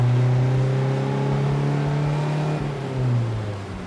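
A classic MG TD sports car pulls away in second gear with little revving, its engine giving a steady low drone that gradually shifts pitch as it gains speed, heard close and alone.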